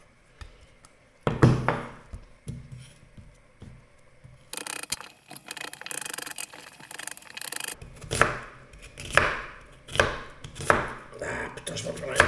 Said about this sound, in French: on va couper les oignons comme ça